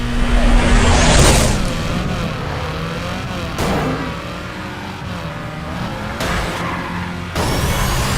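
EA Racer GT race car in Burnout Revenge, engine roaring loud and continuous with revving pitch sweeps, tire skids and abrupt crash-like cuts throughout.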